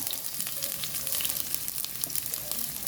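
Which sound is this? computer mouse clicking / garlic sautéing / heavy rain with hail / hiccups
garlic sautéing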